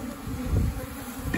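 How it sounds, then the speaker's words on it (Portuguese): A cluster of bees buzzes up close in a steady, dense hum with fluctuating intensity, handled around a queen cell in a beekeeping setting; no voices are heard. "Deixa eu colocar essas abelhinhas aqui."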